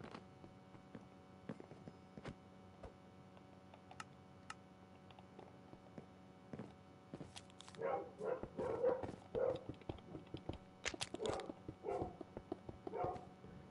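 Several dogs bark in the background, with scattered bursts clustering in the second half. Keyboard clicks and typing run throughout, and the barks stay distant and fairly faint.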